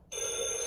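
A telephone bell rings in a stage play of Neil Simon's God's Favorite, a sudden loud continuous metallic trill that starts abruptly and fills the brief moment.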